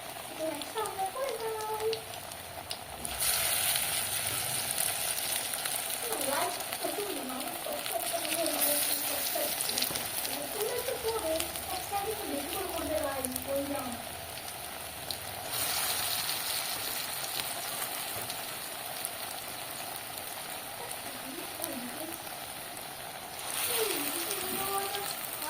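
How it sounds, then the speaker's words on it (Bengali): Pointed gourd (palta) leaf fritters frying in hot oil, dropped in one by one; a steady hiss and crackle runs throughout, with a voice talking over it at intervals. "এবার বড়ার আকারে করে এক একটা করে তেলের ওপরে দিয়ে দেব।"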